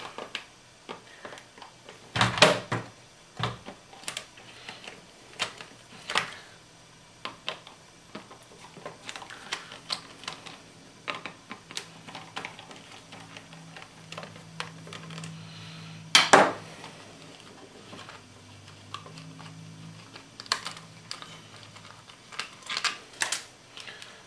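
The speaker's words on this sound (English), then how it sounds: "And they're Phillips heads, so we'll just go ahead and remove those." Phillips head screws being backed out of a Toyota Camry instrument cluster: scattered small clicks and ticks of a screwdriver and parts, with a few sharper clacks, close and fairly quiet, no talking.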